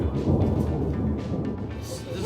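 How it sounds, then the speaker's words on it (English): Low thunder rolls steadily outside during a rare storm in Los Angeles, a continuous deep rumble with rain-like hiss, heard from indoors at moderate volume with no talk over it. "Oh, another thunder's coming down the road."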